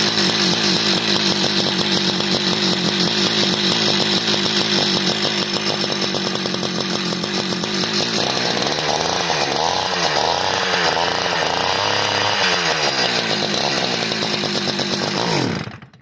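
A cheap gasoline ice auger engine runs at a loud, steady roar in extreme cold of about -15 below zero, held on choke, with its pitch shifting midway before it cuts out abruptly near the end.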